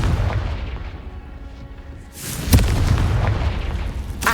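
A Confringo explosion spell in the Hogwarts Legacy video game: loud, dense rumbling game audio that swells into a heavy booming blast with a sharp crack, then continues as a roaring low rumble.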